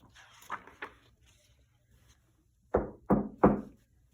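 Three firm knocks on a wooden door, evenly spaced and close, following a few fainter taps, in an otherwise quiet room.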